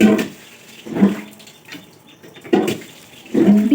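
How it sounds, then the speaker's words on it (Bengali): Tap water runs in bursts while clothes are hand-washed at home, four loud splashing surges about a second apart with quieter running water between them, no voices. "এখন জামা কাপড়গুলো ধুয়ে নেব"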